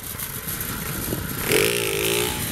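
A motorcycle rides past slowly in first gear, engine note rising into a close, loud revving drone halfway through with rattling mechanical clatter beneath.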